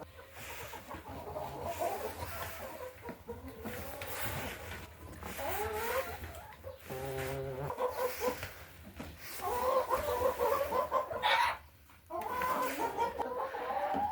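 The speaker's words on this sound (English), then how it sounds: "The hens love feed time" Backyard hens cluck and murmur excitedly at feeding time on a small farm, with repeated close calls rising and falling over a low background hum.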